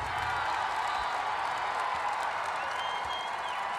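A women's college basketball crowd at Maryland cheers and applauds in a steady, loud wash of clapping and voices that fills the whole short moment.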